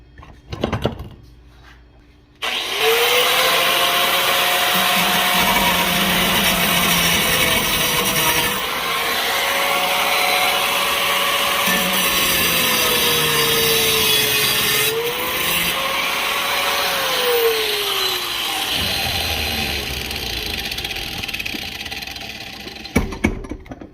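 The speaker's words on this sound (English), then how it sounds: "Gonna put a little cutting wheel on it, and then we can take and cut the end of this bracket off" A cutting wheel slices off the end of a metal bracket during a carburetor swap on a Ford Crown Victoria 4.6 V8. After a short pause, a loud, steady high-pitched grinding whine runs close for about sixteen seconds with no talk, then stops.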